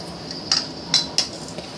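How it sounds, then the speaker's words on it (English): A spoon mixing hot margarine with brown sugar in a bowl, a few distinct light clinks and scrapes of metal against the bowl over a quiet background. "You just mix it until well blended"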